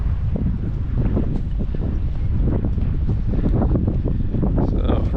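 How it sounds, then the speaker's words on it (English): Strong wind buffets the microphone throughout, a constant low rumbling roar with gusty bumps and no clear voices. "it's super windy, so you probably can't hear anything."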